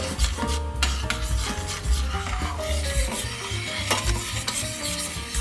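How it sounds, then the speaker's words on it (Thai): Blackberry sauce thickened with starch is stirred steadily in a pot over low heat, a continuous scraping and rubbing of the spoon against the pan with a faint sizzle underneath, close and fairly loud, with no talking. "เปิดไฟต่อแล้วก็ค่อยคนไปเรื่อยๆนะคะให้แป้งแบบ สุกขึ้นนะคะ"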